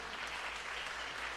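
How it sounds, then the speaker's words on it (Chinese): A church audience claps for a band, giving a steady, dense round of applause. It sounds soft and somewhat distant, with no voices over it. "我们再次拍手，感谢我们的使徒乐团"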